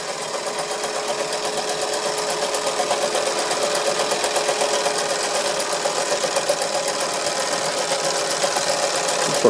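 Wilesco D141 toy steam engine running and driving a small drill, a fast, steady mechanical chuffing and clattering rhythm with a faint whine, close and continuous, no one speaking.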